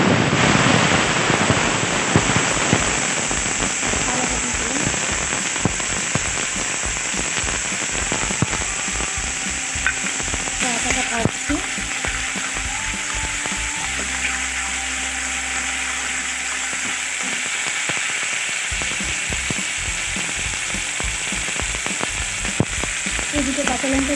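Peas frying in oil in a pan, a dense, continuous sizzle with crackling pops that stays loud and even throughout, with a faint hum in the background partway through.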